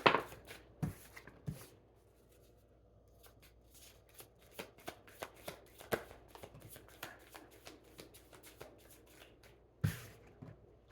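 Tarot cards are shuffled by hand, with crisp riffling bursts at the start and again near the end and softer, sparse card handling in between, close and quiet.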